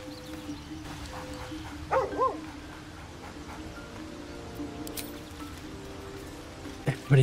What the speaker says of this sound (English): Yup, that bleeding dog.